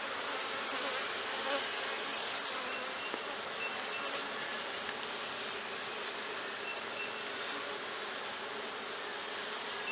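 Honey bees buzz at an open hive while a colony is split for swarm control, a dense, steady swarm drone filling the whole stretch without pause or voices.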